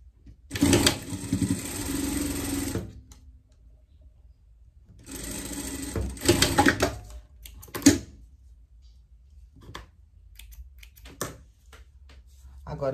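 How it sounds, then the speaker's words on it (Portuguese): A sewing machine runs a fine seam on girls' panties in two or three short bursts of close whirring stitching, separated by quiet gaps with soft handling noises. "Costurar no direito. Uma costura bem fininha"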